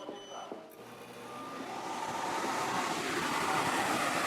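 A marine air conditioner aboard a boat starts up and settles into a steady broadband whooshing hum that grows louder over a few seconds, following a faint click.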